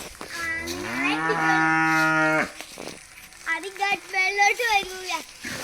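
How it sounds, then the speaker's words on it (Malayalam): A cow gives a long, loud, close moo lasting a couple of seconds, followed by shorter calls and voices nearby. "ദാ ഇങ്ങ് വന്ന് കറമ്പി പശു."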